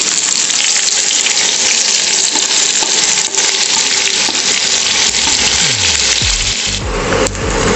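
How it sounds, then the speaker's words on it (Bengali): Sliced onions frying in ghee and white oil for chicken roast, a loud, dense, continuous sizzle close up with faint scraping of a utensil. "ওই ঘি এবং সাদা তেলের মধ্যেই আমি 1 কাপ পেঁয়াজ স্লাইস করে রেখেছিলাম, সেটা ভেজে নিচ্ছি"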